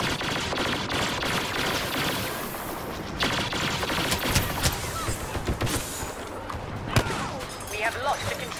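Turret fire in the shooter Star Wars Battlefront, a steady stream of rapid blaster shots and booming impacts amid chaotic battle noise, loud and continuous.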